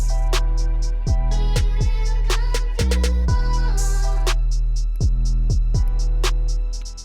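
Trap type beat with a string line added, sustained loud strings layered over deep bass hits and sliding 808 notes, with crisp hi-hat ticks throughout.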